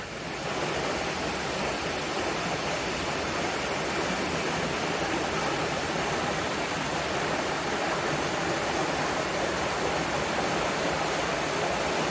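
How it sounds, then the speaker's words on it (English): A river flowing beside the edge of a town, its water rushing in a steady, dense wash of sound that stays even and unbroken throughout, with no voices. "take a look at this river"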